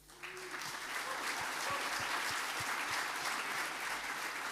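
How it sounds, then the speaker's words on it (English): Crowd at the Dutch Umbraco conference applauding the volunteer crew, sustained dense clapping that fills the room while a voice talks faintly underneath. "So have a round of applause for everyone helping us today"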